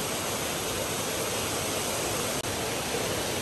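Amruthadhara waterfall at Maredumilli roars in a dense, unbroken wash of falling water, loud and steady throughout with no voices.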